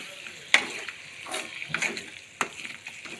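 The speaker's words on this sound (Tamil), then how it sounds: "ஈரலை சேர்த்து நல்லா வந்து எண்ணெயிலே கொஞ்சம் நேரம் வதக்கி விட்டுடலாம்" Chicken liver sautéing in hot oil: a low sizzle broken by a few sharp spatula scrapes and clatters against the pan, fairly close.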